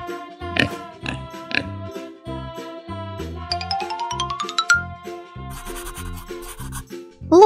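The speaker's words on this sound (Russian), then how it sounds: "Свинка." A pig gives a couple of short, close grunting oinks early on, set over cheerful children's cartoon music with chimes and a rising sweep.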